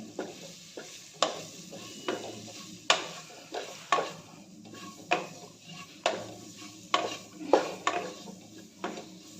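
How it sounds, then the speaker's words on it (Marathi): Besan-coated okra stir-fried in a pan, with repeated sharp spatula scrapes and taps against the metal over a soft sizzle, close and steady with no talk. "यामध्ये भेंडी यामध्ये चांगलं परतून घ्यायचं आहे"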